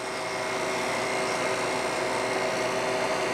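A home freeze dryer loaded with blanched grapes runs with a steady, even mechanical hum and hiss. The noise is broadband and constant, close by, and no voices are audible.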